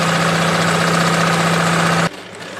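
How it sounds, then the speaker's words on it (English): Sewing machine stitching a seam along a 1 inch line on an A-line long dress, running as a loud, steady motor whir with a fine rapid stitching texture that stops abruptly near the end. "Then you keep sewing on the 1 inch line."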